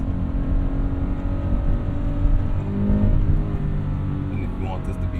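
A Toyota 86 engine revving hard at full throttle from inside the car, a steady droning roar that climbs slightly in pitch, with someone talking over it.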